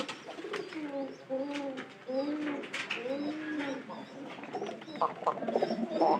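Pigeons coo in a repeated rolling series of low, throaty calls at close range, with a few faint chirps and light rustling in between; no one speaks.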